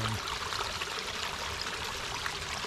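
Pondless waterfall in a Japanese-inspired garden, its water trickling and splashing in a steady, close, continuous wash with no talk.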